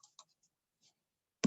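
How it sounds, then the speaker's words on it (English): A computer mouse clicks a few times, small isolated ticks close by in a quiet room, followed by a sharper, louder click at the very end. "now I'm gonna click"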